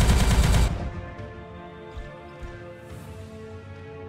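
A loud, dense burst of rapid gunfire in the video game Warhammer 40K Regicide lasts under a second, then cuts off and leaves sustained tonal game sounds ringing on underneath.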